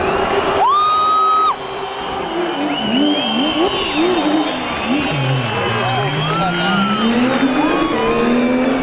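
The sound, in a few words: rally car passing very fast, sliding sideways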